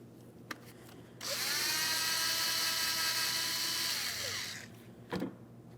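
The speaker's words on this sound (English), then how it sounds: "Use an E7 Torx socket to remove this." An impact or power driver with an E7 inverted Torx socket loosens a small bolt on a 2007-2014 Ford Edge brake master cylinder, giving one steady high whir lasting about three seconds, close and loud, with faint clicks before and after.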